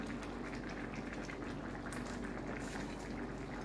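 Mung bean stew with fried galunggong fish added, bubbling in a pot with a steady, faint simmering boil and soft liquid crackle throughout.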